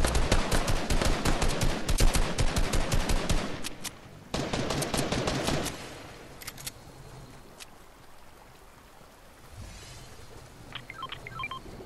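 Fortnite players trade fire in a rapid crackle of loud gunshots and machine-gun bursts that runs for several seconds. It then fades to a quieter ambience with a few scattered shots and small clicks.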